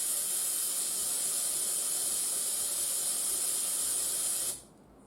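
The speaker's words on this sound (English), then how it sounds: "I trust my other airbrush to do the highlighting work" An airbrush sprays paint in a steady, even hiss held close for about four and a half seconds, then cuts off abruptly into near silence.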